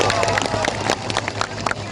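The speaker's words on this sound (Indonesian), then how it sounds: "Tepuk tangan." Crowd applause and cheering at a large vice-presidential campaign rally in Lampung, a dense, continuous roar of clapping with voices mixed in throughout.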